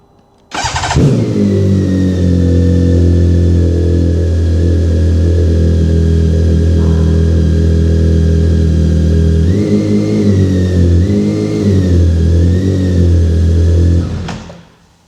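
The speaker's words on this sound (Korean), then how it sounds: "소리는 네, 머플러 소리 한번 들어보셔야 됩니다." A BMW K1600GT motorcycle with an Akrapovic exhaust starts with a sharp catch and then settles into a loud, steady cold idle. The engine holds a high, smooth drone for about thirteen seconds, with a slight change in pitch midway, before it cuts off.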